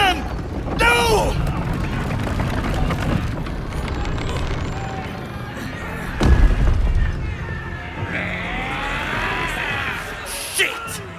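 A cannon fires in the fantasy role-playing game Baldur's Gate 3, one heavy, deep boom landing partway through amid a chaotic battle scene, with shouting voices and combat noise before and after it.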